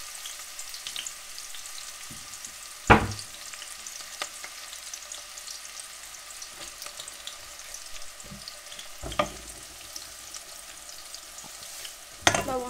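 Onion and ginger-garlic paste fry in a pan for a Bengali taro-leaf dish, a steady soft sizzle running throughout, broken by a few sharp stirring clatters, with no voices.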